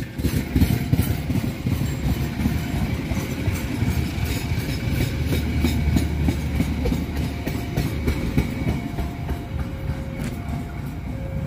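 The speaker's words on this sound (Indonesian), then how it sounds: "Dengan double lokomotif." A local passenger train on the Garut–Cibatuan line, hauled by two locomotives, rumbles past nearby with continuous heavy rolling noise and faint rhythmic wheel clatter, no voices.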